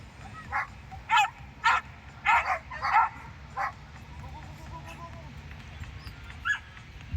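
A dog barks in short, sharp bursts during a dog sport competition, several clustered together and a couple more spaced apart, moderately loud over a low background rumble.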